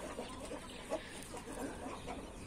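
An Índio gamecock named Leôncio, a medium-to-large bird, gives a few soft, low clucks close by on a hot day, spaced irregularly over a quiet farmyard background with no talking.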